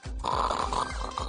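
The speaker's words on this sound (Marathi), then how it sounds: "तुम्ही जरा जास्तच घोरत होता कळलं?" A person snoring in a Marathi TV serial scene: deep, rumbling breaths repeating in a steady rhythm, close and fairly loud, with no talk over them.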